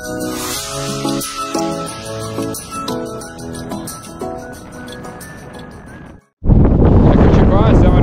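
Strong wind buffeting the microphone on the Spitzhorli summit during a ski-mountaineering ascent, a sudden loud roaring gust that cuts in near the end after voices talk over quieter background.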